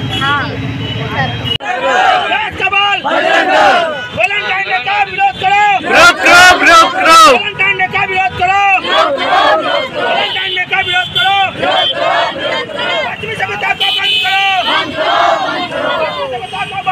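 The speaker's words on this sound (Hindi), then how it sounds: "काफी सारा भीड़ लग चुका है।" A large crowd of Bajrang Dal and Durga Vahini protesters marching against Valentine's Day chants and shouts loudly in rhythmic waves, with overlapping voices and a few sharp whistles standing out.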